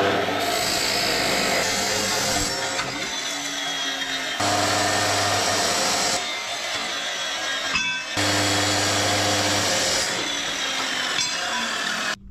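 A power tool cuts metal for side steps on an HJ47 Landcruiser in three loud, grinding bursts separated by short pauses, with no talking.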